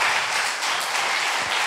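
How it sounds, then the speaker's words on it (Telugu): A congregation claps in praise to God at a Sunday church service, a dense, continuous burst of applause from many hands, loud and even throughout. "ఒకసారి చప్పట్లు కూడా దేవుని స్తుతించాం."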